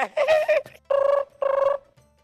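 A telephone rings up close in three separate tonal bursts with short gaps between them. The last ring fades into quiet.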